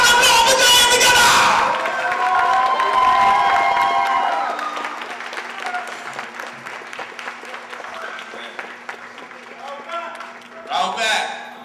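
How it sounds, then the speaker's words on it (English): An audience bursts into applause and cheering at a class gathering, a loud wash of clapping and shouts that tapers off into scattered claps and talking, with another short swell near the end. "Give a round of applause. Put your hands together."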